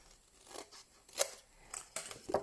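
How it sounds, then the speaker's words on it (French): Paper or card being cut with a pair of scissors for a craft box, a handful of quiet, crisp snips spaced unevenly, close up and faint. "Donc, pour les enlever, paire de ciseaux, massicot, comme vous préférez. Allez, moi, je fais paire de ciseaux."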